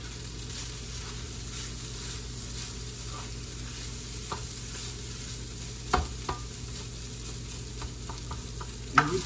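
Fried rice sizzling steadily in a pan over medium-high heat, a soft continuous hiss with occasional clinks and scrapes as it is stirred and tossed, quiet and close.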